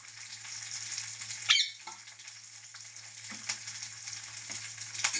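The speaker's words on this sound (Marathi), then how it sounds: "हे टाकून चांगला तडका द्यायला लागला." Mustard seeds and cumin sizzle and crackle in hot oil for a tempering with curry leaves, a soft continuous frying hiss punctuated by a few sharp pops and spits, quiet and close.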